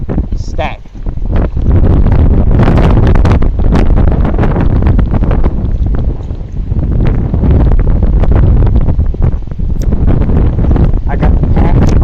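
Strong wind gusts beside a river during an ultralight fishing trip, roaring and buffeting the microphone loudly and almost continuously for the whole stretch.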